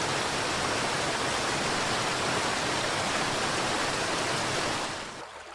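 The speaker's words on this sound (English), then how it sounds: "enormous quantities of water fall over the largest basin in the world" Heavy rain pours over the Amazon basin in a dense, steady roar of broadband hiss that holds constant and then eases slightly at the very end.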